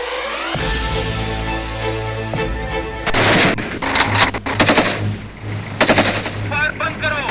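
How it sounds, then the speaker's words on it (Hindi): Rapid bursts of gunfire crackle through a crime drama scene set in Karachi, starting with a loud sustained volley and breaking into several separate blasts of shots over the last few seconds. "फायर बंद करो।"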